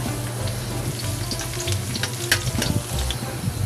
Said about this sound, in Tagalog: Unahin ko gisa itong luya. Ilagay ko na itong bawang,